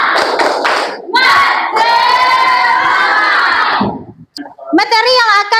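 Students perform a spirit clap cheer together in a classroom, clapping in rhythm and then shouting loudly as a group, with children's voices ringing out over the clapping.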